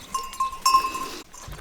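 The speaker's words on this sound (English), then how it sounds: "here's the goats" Goats bleat on a small farm in Portugal, a couple of short nasal calls sounding fairly close over a steady whine and background noise.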